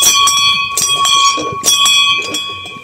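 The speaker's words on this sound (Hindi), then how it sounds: "मंदिर के गेट में घंटी लगा रखी है ताकि इसको बजा करके बच्चे और जो लोग इस स्कूल में जाएं" A bell hung at a temple gate in a Himalayan village is struck several times in quick succession, each bright metallic clang ringing close and loud with a sustained shimmering tone between hits.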